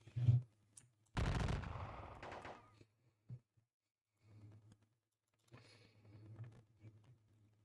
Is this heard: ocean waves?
no